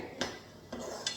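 Two or three light clinks of a dish and utensil while food is moved onto a plate, close and fairly quiet, with soft kitchen background between the taps.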